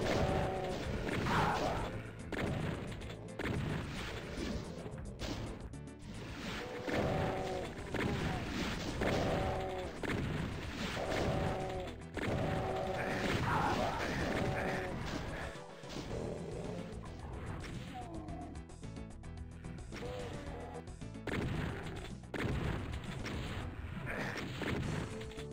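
Explosions in Doom: Resurgence on Ultra-Violence come as repeated booming crashes and thwacks. They land densely and loudly among constant gunfire and game music, with almost no pause across the stretch.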